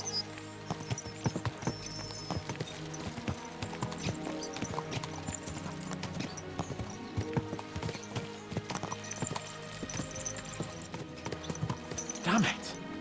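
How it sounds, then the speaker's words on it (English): Horse hooves clip-clop steadily at a brisk pace in Kingdom Come: Deliverance II, a medieval video game, mixed with game ambience, occasional knocks and a brief whinny near the end. "Let's really spur these horses on, eh?"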